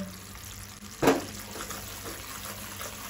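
A single spoonful of water splashes into jaggery for sesame ladoo, one short close pour that lasts about a moment before quiet returns.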